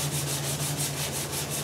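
Steady back-and-forth hand sanding of a primed repair with 180-grit sandpaper, close and continuous with a rhythmic scratching pulse and no talking.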